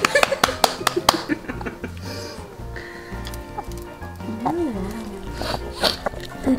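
Several sharp hand claps ring out in quick succession at the start, followed by chatter and playful voices in a cave-themed snack play session with five pets nearby.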